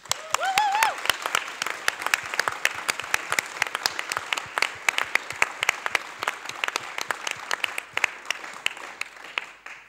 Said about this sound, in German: Da einen ganz großen Applaus.